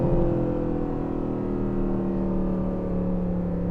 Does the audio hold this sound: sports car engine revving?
yes